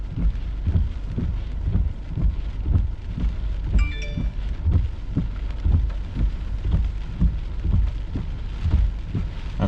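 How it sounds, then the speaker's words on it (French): Small hail and rain fall steadily during a windy summer storm at Ville-la-Salle, a dense loud patter with rhythmic gusty surges and a brief sharp rattle midway. "Il y a de la petite grêle"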